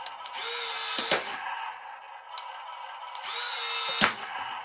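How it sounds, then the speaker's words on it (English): Stripping plastic gears in an RC tank, a whirring motor run broken by sharp clicking snaps as it turns past a certain point, repeated in two close bursts. "when they turn to a certain point, a certain degree, they click like crazy"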